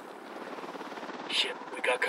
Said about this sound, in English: Chopper, down. Helicopter incoming.